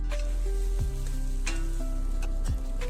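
Prawns sizzling loudly in spiced oil in a pan, a steady hiss with a couple of scraping thuds as the spatula stirs them, no voices.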